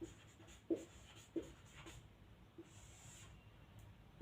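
Pen or pencil strokes on paper during a lesson about the aluminium industry, a few short scratchy marks spaced out over a quiet, low room hum, close and fairly faint.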